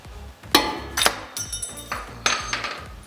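Sharp metallic hammer strikes on Mazda Miata brake parts during a brake job, several loud clinking taps spaced irregularly, close by with brief ringing after each hit.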